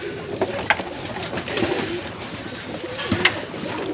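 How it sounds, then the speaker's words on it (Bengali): Many pigeons coo indoors in a loft, with soft, overlapping calls and a few sharper flutters or clicks scattered through a close, steady murmur. "দেখতে পাচ্ছেন অনেকগুলো কবুতর,"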